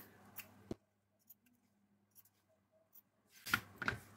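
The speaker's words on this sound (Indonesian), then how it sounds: "Gunting pojokannya." Scissors snipping the corners of sewn fabric for a gallon water jug cover, a few sharp isolated cuts separated by quiet pauses, close and fairly faint.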